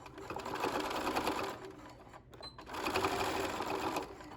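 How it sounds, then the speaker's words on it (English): A sewing machine stitches fabric together for a handmade zipper pouch, its rapid needle chatter running loud and close in two bursts separated by a brief pause. "And then I'm just going to sew these together."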